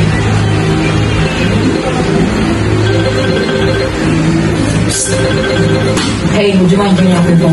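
A mobile phone ringtone rings loudly in a classroom, a repeating electronic melody that runs throughout with voices talking over it.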